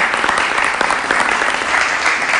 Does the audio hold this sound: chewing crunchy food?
no